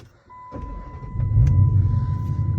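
A Dodge Challenger SRT8 engine cranks, catches and settles into a deep, rumbling idle that grows louder, close by with no talking.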